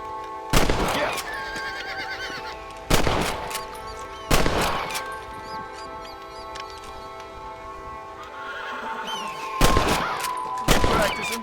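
Gunshots at a Red Dead Redemption shooting contest, five or six sharp, loud cracks spaced a few seconds apart over a quiet ambient background with faint horse sounds.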